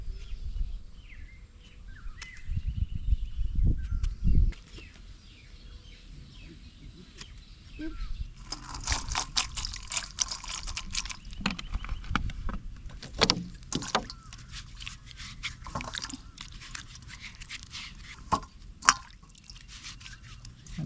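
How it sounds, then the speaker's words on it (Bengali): Water splashing and dripping as a banana leaf is washed by hand, irregular close splashes and drips with some wet handling noises, no talk. "এবারে কলা পাতাটা ধুয়ে নিচ্ছি ভালোভাবে"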